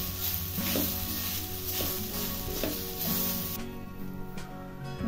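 Grated fresh coconut roasting in a pan, sizzling steadily with a few soft stirring scrapes, close and continuous with no talk.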